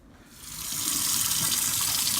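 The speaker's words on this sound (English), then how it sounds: "I get a little warmer water running through here at some speed." A kitchen sink tap is turned on and warm water quickly builds to a strong, steady close-up gush splashing into the basin, with no voices.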